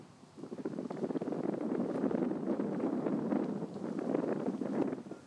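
Gusty wind blows steadily across an outdoor disc golf course in Linköping, a continuous broadband rush with buffeting on the microphone throughout, no voices.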